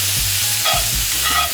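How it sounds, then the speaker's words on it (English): Butter melts and sizzles in a hot pan with shrimp, a loud close crackling hiss with brief scraping stir noises and low thumps, no voices. "let the butter melt in here"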